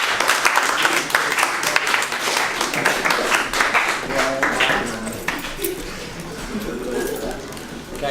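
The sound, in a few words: applause for boxers at press conference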